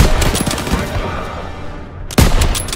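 Dense, continuous automatic gunfire in a Call of Duty WWII battle fills the whole stretch, fading slightly midway before a loud fresh burst near the end, with scattered shots layered over a roar of combat.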